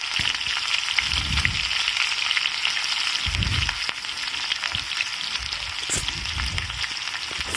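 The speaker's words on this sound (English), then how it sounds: "Fry the onions till it becomes golden brown." Diced onions frying in a pan give a steady, close, bright sizzle throughout, with soft low stirring thumps rising and fading several times.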